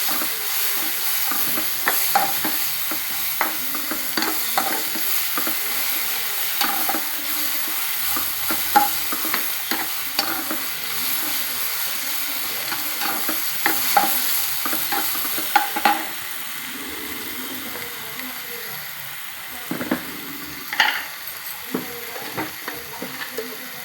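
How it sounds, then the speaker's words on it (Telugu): Food frying in a pan with continuous sizzling and hiss, broken by repeated scraping and clinking strokes as it is stirred, up close with no voices. "దీన్ని కొంచెం ఫ్రై చేసుకోవాలి."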